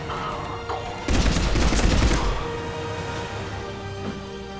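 Burst of automatic gunfire hitting a pod in the video game Mass Effect 3, a dense loud volley lasting about a second over a constant humming background.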